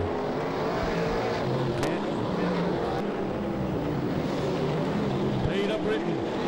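V8 dirt modified race cars at an Australian title meeting roar around the track, engines droning loudly and steadily throughout while a commentator talks over them.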